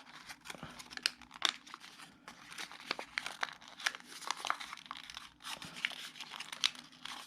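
Origami paper is folded and creased up close, giving soft, continuous crinkling and crisp rustles with sharper snaps as the folds reverse, quiet and unaccompanied by talk.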